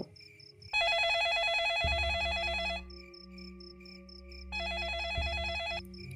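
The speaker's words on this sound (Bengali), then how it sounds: "হঠাৎ সুরেলা শব্দে পকেটের মোবাইল ফোনটা বেজে উঠল" A mobile phone ringtone plays a bright, repeating electronic melody in two loud bursts with a short pause between them.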